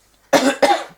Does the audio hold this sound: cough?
yes